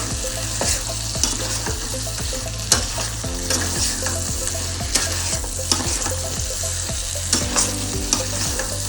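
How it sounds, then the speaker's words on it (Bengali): Fried prawns are sautéed in the spiced base of a homemade Bengali prawn malai curry: continuous close sizzling with repeated spatula stirs and scrapes, with music playing underneath. "ভাজা চিংড়ি মাছ দিয়ে বেশ কিছুক্ষণ ধরে আমি কষিয়ে নেব।"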